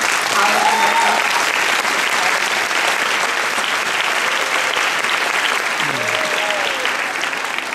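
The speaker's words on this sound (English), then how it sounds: "a quick round of applause and congratulations to the University of Rhode Island" A crowd at a University of Rhode Island nursing graduation ceremony applauds loudly and continuously, with occasional cheers breaking through the sustained clapping.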